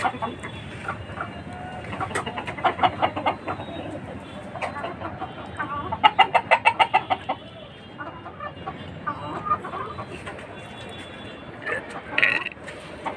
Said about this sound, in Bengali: এই যে এখানে কিছু মুরগি আছে।